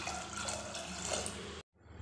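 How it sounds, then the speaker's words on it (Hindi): Water pours from a tap onto soaked chana dal, a steady close splashing and gurgling that stops abruptly, leaving a faint trickle afterward. "मैंने दाल के आधा इंच ऊपर तक पानी डाल दिया हुआ"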